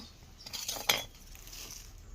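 Cutlery and dishes clink faintly as cooked rice and sambar are served onto plates, a few soft scrapes and one brighter chink in a quiet room.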